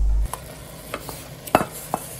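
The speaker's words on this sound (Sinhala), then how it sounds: "දැන් මේ සෝස් එක අපේ මස් එකට එකතු කරගන්නවා." Homemade marinara sauce being stirred into frying beef for lasagna, giving a few scattered scrapes and wet stirring sounds over a quiet sizzle, close and moderately soft.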